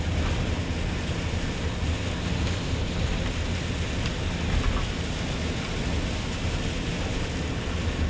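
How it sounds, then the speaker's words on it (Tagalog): Heavy typhoon rain pours down around vehicles driving through the storm, making a loud, dense, unbroken roar that holds steady throughout. "Grabe, napakalakas ng ulan guys."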